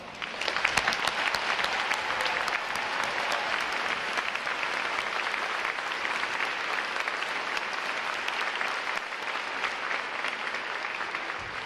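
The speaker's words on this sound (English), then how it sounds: "please join me in giving all our veterans a well-deserved round of applause" A large crowd applauds veterans at a U.S. Navy Recruit Training Command boot camp graduation, a dense, sustained wash of clapping that holds steady for the whole stretch, heard from a distance across a big hall.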